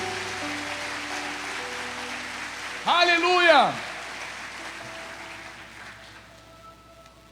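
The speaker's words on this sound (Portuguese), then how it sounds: "Pode aplaudir Ele bem forte se você crê" A church congregation applauds in a soft, continuous patter behind the room sound, while a voice briefly calls out loudly over it partway through.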